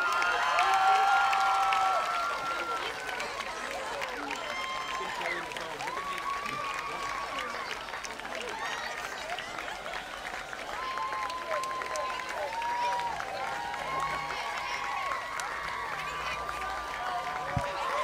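Crowd applause and cheering at a youth football game with Pop Warner cheerleaders and players, a broad, steady wash of clapping from a large outdoor audience that holds loud and even throughout.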